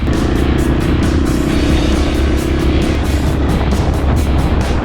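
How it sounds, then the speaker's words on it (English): A car on a road approaches at a rally event, a steady loud engine rumble and tire roar filling the scene from start to finish with no break. "Oh, this car's coming now."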